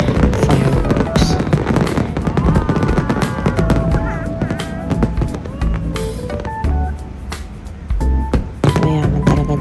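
Fireworks bursting over Al Seef in Dubai, a rapid run of loud cracks, pops and whistles in a crowded finale, with onlookers audible in the background.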